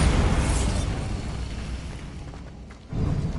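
A Bombarda blasting spell goes off in Hogwarts Legacy, a broad, rumbling burst of explosion and debris that fades over a few seconds before a second low thump, near and fairly loud with no talk.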